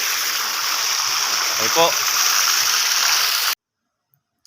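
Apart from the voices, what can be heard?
irrigation water flowing into concrete catfish pond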